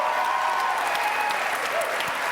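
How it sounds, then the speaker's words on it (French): Studio audience at a Quebec reality show premiere applauds the first contestant with steady, dense clapping throughout, under a faint voice. "Alors, je vous demande de l'applaudir."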